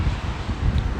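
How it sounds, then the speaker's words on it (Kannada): Strong outdoor wind, dusty and sandstorm-like, roars and buffets the microphone in a dense, continuous low rush with no voices. "ಒಟ್ರಾಸಿ ಗಾಳಿ ಬರ್ತಾ ಉಂಟು"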